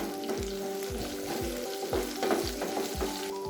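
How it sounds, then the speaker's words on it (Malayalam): Soya chunks and onions sauté in a hot pan for soya biryani, a steady oily sizzle broken by repeated scrapes and stirs of a spatula coming at a regular pace, close and clear. "അപ്പോൾ ഇത് 2-3 മിനിറ്റ് നന്നായിട്ട് വഴറ്റി കൊടുത്തു"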